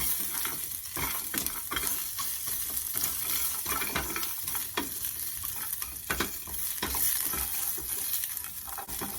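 Pork stir-fries with spices and salt in a pan for Thai braised pork, a continuous crackling sizzle with frequent stirring scrapes, steady and close with no talking.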